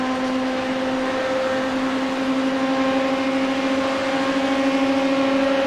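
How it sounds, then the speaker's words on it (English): GT3 race car engines in a racing video game at Fuji, made as a steady, loud, sustained engine drone with strong tonal whine that holds at a constant pitch throughout, with no talk. "This gives Matt an opportunity on lap 7 as we continue to lap the GT3 cars"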